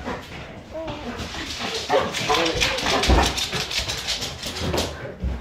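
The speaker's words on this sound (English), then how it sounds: "Oh, my demon dog." A nearby dog keeps up a stream of excited yips, whines and short barks without pause, with people talking over it.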